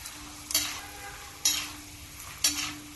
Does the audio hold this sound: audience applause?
no